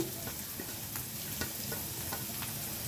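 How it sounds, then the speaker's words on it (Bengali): Vegetables fry gently in a pan for semolina pulao, a soft steady sizzle broken by faint scraping stirs and light ticks of the spatula, fairly quiet and without talk. "একটু করে সব ভেজে নেবো বেশি ফ্রাই করবো না"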